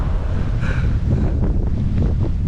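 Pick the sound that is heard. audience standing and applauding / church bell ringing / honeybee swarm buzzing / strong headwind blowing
strong headwind blowing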